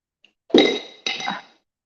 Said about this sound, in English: Supposed to drop a couple ice cubes in there when you get them some water.